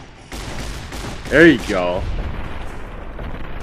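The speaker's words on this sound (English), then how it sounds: "time to get my fucking riot shotgun out and just fucking lay waste to these assholes" Riot shotgun fire in Fallout: New Vegas: a sudden blast opens a run of steady, dense shooting noise that carries on throughout, with someone speaking briefly over it.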